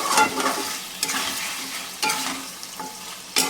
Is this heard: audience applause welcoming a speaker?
no